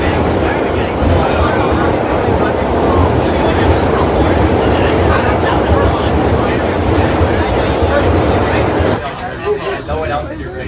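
A New York subway holiday train running, its loud continuous rumble and rattling wheel noise dominating, then dropping off near the end as the car slows.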